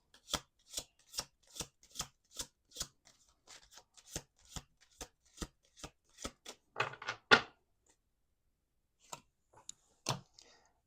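Playing cards are shuffled in a run of crisp, evenly spaced riffling snaps, followed by a few quieter card sounds and brief handling noises, close by.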